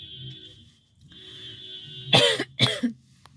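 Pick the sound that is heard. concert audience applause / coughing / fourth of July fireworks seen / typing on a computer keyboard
coughing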